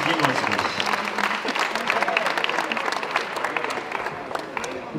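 Clapping at a school competition awards ceremony for bronze medalists in a French lingerie and upholstery trades cup, a crowd applauding steadily for several seconds, with voices and cheering mixed in.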